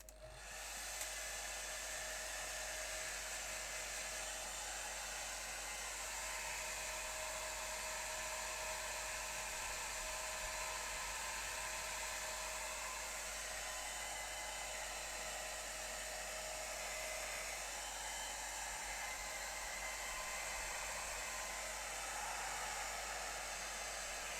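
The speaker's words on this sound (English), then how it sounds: "I might get the hairdryer on this" A hair dryer blows steadily and loudly for the whole stretch, a constant broadband whoosh with a faint high whine and no talking.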